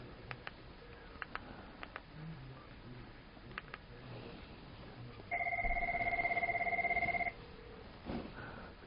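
A Cisco 6825 DECT cordless phone on a WebEx Calling base station rings once with a steady two-tone electronic trill lasting about two seconds, heard alone over faint room noise and light clicks.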